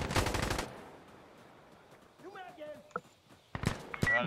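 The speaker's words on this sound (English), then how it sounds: "The grenade launcher." Rapid bursts of gunfire open and close a stretch of a co-op Insurgency: Sandstorm match, with sharp reports and a grenade launcher in the mix, while players talk in between and game sounds chirp faintly.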